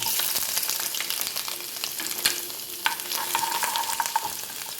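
Ginger frying in coconut oil in a pan with mustard seeds and fenugreek, giving a steady close sizzle with light stirring and occasional utensil scrapes and clinks, no voices.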